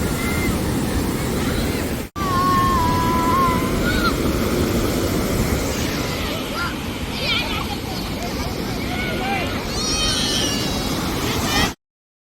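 Ocean waves at Marina Beach roar in a steady, broad wash mixed with gusting wind on the microphone, while faint voices and the odd high call drift through the background.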